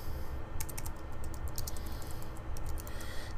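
Keys on a computer keyboard tapped in short rapid runs over a steady background hiss, the typing fairly close and distinct, with no speech.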